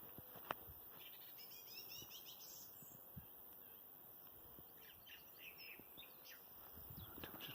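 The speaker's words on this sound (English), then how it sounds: "You can hear the birds. And the insects sizzling." Birds chirp and twitter in short scattered bursts over a faint, constant sizzle of insects at a mill pond lined with water lilies, rushes and grasses, all quiet and distant.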